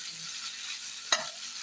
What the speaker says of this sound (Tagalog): Prito po natin ito guys.